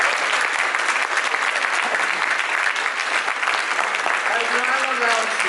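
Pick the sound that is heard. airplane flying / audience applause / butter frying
audience applause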